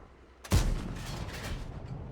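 A single heavy cannon shot from an AAT60 tank in a video game, a sharp close boom followed by a long rumbling tail, no voices.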